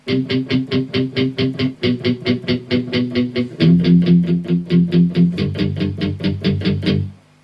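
Electric guitar plays the intro B riff, fast evenly picked repeated chords with a slight distorted edge, shifting position partway through and ringing out at the end.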